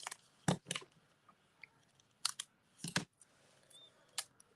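Scissors snip through paper for a handmade shaker tag card, heard as crisp close-up cuts that come in short clusters of two or three with quiet pauses between them and no talk.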